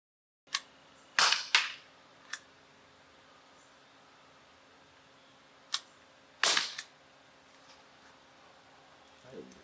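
Gamo P430 CO2 air pistol firing pellets outdoors, several sharp close cracks spaced irregularly, with a couple of fainter clicks between them and a steady faint hum beneath.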